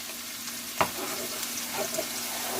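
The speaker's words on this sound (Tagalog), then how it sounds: "Ang anak ko po na si Maximus ang humahalo." Fried rice sizzling in a pan while being stirred, a steady frying hiss with a sharp scrape of the utensil and a few softer clinks as it is mixed.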